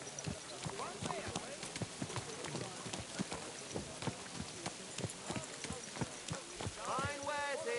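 Horse hooves clop in an irregular, close rhythm in the video game Kingdom Come Deliverance 2, with background murmur and voices talking around them.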